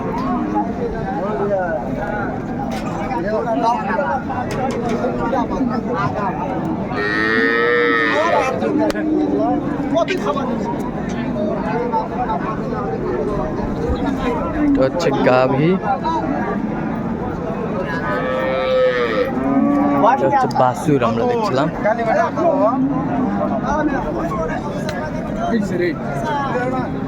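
Cows moo loudly several times over a busy crowd with steady chatter and bargaining voices, a lively outdoor livestock market with cows and calves at Raniganj market, Dinajpur.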